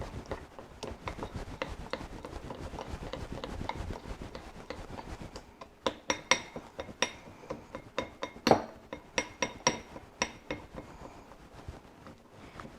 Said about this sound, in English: And stir that up really good